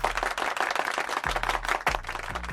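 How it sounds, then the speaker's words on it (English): Dense, steady crowd applause at a Houston Rockets basketball game, continuous clapping filling the full length at close, loud level with no voices on top. "Round of applause for Bullock."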